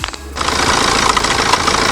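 A BMW X1 engine, oil-covered, starting up with a short crank and then settling into a loud, steady running note with a faint rhythmic rattle.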